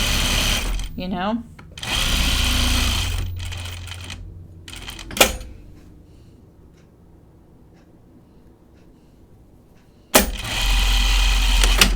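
A home sewing machine stitching fabric, running in two steady mechanical bursts separated by a quiet pause, with a few sharp clicks and a speaking voice in between.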